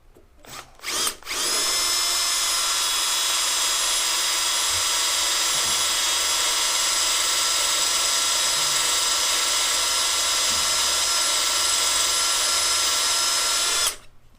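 A power drill with a 1/4 inch bit drilling out a broken tap, a loud, steady high-pitched whine held for about twelve seconds after a few short starts, close by and with no talking.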